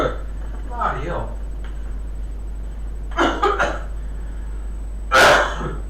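A smoker's cough breaks out in several rough, harsh bursts: one brief fit early on, a clustered volley of coughs midway, and a final loud hacking burst near the end. Steady low electrical hum runs underneath.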